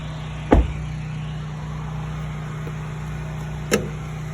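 Fuel door opener on a 2022 Mazda CX-3 AWD: two distinct mechanical clunks a few seconds apart, close and moderately loud, over a steady low cabin hum with no talking.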